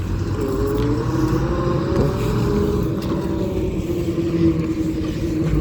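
A farm vehicle rolls in for the second day of pigeon pea (arhar) harvesting, a steady low engine drone close by and continuous throughout, with no talking over it.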